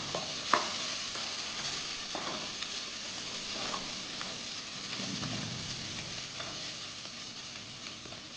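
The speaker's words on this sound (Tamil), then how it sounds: "ரெண்டு பச்சை மிளகா போடுறேன் அதையும் போட்டு வதக்கிக்கலாம்" Two green chillies sauté in a pan for a rice-free cabbage biryani, with a faint, even sizzle and occasional soft stirring scrapes throughout.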